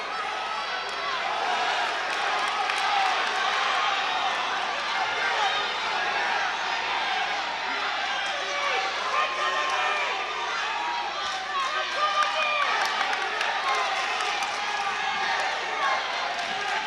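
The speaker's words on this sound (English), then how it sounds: "Both sides cheering on their teammates." Spectators at a high school wrestling match between Lawrence and North Andover cheer for their teammates in a gym, a continuous roar of crowd voices and shouts with scattered thuds, a commentator talking over it.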